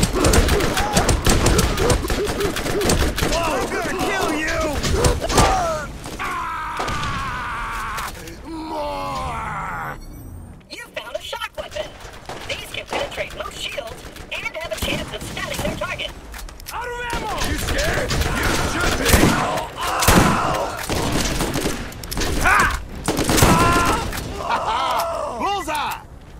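Borderlands gunfire crackles through a chaotic firefight, bursts of rapid shots mixed with groans, screams and game effects, loud and dense with a brief lull midway and voices heard among the noise.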